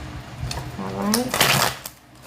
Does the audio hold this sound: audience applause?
no